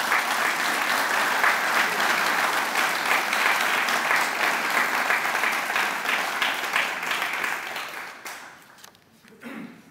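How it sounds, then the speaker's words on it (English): A hall audience at a medallion award ceremony gives a long round of applause, thick and even for most of the time before thinning out and dying away in the last seconds. "Let's all give them a round of applause."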